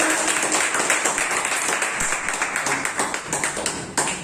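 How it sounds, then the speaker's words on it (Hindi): Applause from an audience welcoming Amit Kumar to the stage at a presentation on modern machines, dense steady clapping of a crowd at close range lasting throughout, with some sharper individual claps standing out. "अमित सर के लिए जोरदार तालियां"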